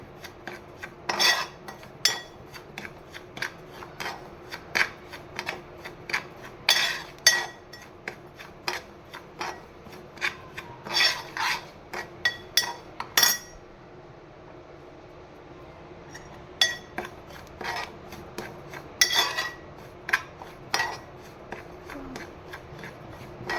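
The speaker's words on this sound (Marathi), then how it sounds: "पहा मस्तपैकी असा कोरडा आपण शेकून घेतो रवा छानपैकी" Dry semolina stirred in a pan over low heat for sheera, a spoon scraping and clinking against the metal in steady repeated strokes with a soft rasp between them, close and alone.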